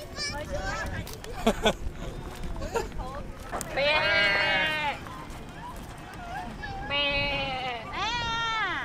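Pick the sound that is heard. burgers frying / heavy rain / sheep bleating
sheep bleating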